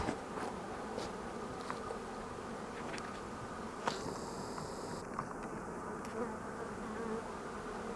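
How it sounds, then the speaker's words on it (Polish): A honeybee buzzes close by in an apiary, droning steadily as it circles around, with light outdoor background noise. "No jedna pszczoła mnie oblatuje"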